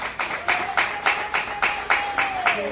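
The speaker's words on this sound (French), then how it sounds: "Sous les applaudissements du public," An audience at a civil wedding ceremony applauds in a rhythmic run of loud, close, evenly spaced claps, with a faint high tone drifting underneath.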